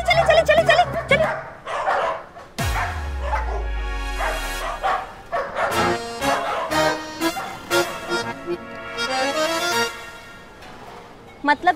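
A dog barks and yips repeatedly at close range, mixed with lively voices and other busy household sounds in a Hindi TV comedy scene.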